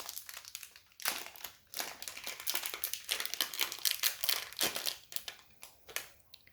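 Someone opens a plastic package of diamond painting drills, making close, crisp crinkling and crumpling in irregular bursts with brief pauses between them.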